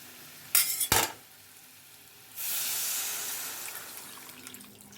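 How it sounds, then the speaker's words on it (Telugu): Water poured into a hot pan of sweet mango pickle, a long hissing sizzle that swells after a couple of sharp clatters and stays steady to the end. "ఈ టైంలో మనం నీళ్లు పోసుకుందాం"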